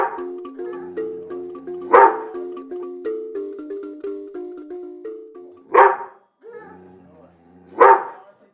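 A dog gives three sharp, loud barks spaced a few seconds apart over a quiet melodic tune.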